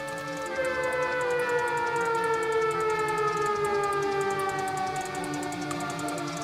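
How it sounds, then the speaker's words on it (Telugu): Civil defense siren wailing steadily and loudly throughout, its rising-and-falling tone sustained without pause, heard alone with no talk, near a shop in rainy, windy weather. "సైరన్"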